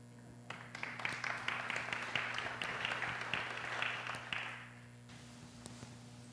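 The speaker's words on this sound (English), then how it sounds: "You can clap for them again." Church audience clapping for a choir and percussion group, a quick scattered patter of many hands that swells for several seconds, then fades out and stops near the end.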